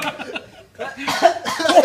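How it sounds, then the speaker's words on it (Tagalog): A couple of short, harsh coughs up close, following some brief murmuring. "Inuubo pa."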